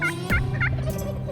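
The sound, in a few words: wild turkeys gobbling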